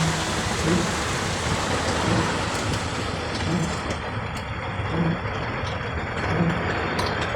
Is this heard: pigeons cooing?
no